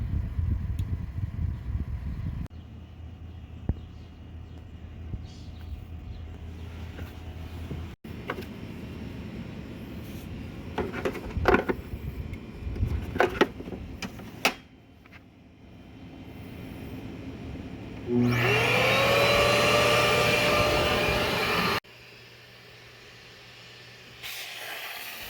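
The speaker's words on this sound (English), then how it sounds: "So as we turn on the shop vac, we'll show how high and how much power we use." A Festool CT 15E dust extractor runs as a shop vac for cleaning a truck's floor liners, with scattered clicks and handling noises before a loud, steady hissing roar switches on, runs for a few seconds, then cuts off.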